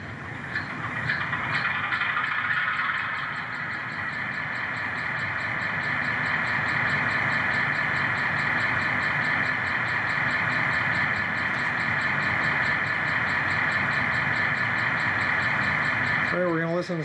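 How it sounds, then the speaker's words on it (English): A Rapido FL9 N scale model locomotive's sound system starts up and settles into a steady, droning diesel-electric idle that holds for most of the stretch, with a brief, sharper tonal burst right at the end. "We're going to hit F8, which will start up the locomotive."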